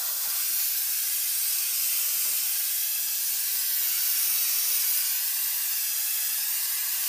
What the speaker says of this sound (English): your best option is to lightly spray a thin coat all around